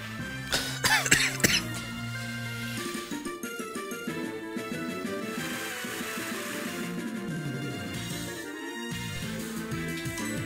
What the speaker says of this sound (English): that coughing fit is done.